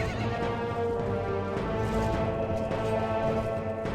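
Horses whinny and their hooves clatter across the ground during a battle in the video game Mount & Blade Floris, a dense, continuous mix of neighs and hoofbeats heard close and loud, with no speech.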